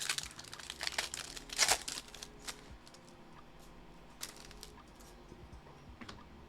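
Foil wrappers of NBA basketball trading card packs being torn open, with crinkly crackling bursts that peak early, then softer rustling and card handling, close up with no talk.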